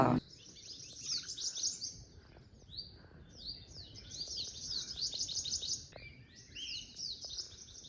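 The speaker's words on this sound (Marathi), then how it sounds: "पक्ष्यांचा किलबिलाट ऐकत" Birds chirp and trill in quick repeated bursts, several calls overlapping, bright and fairly close against a quiet forest background on a hill trek in Konkan.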